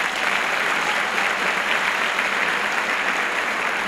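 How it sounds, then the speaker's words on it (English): Steady, dense applause from a concert audience at a high school pops concert, honoring the students' parents, sustained and even throughout with no voices standing out. "So how about a round of applause for you parents?"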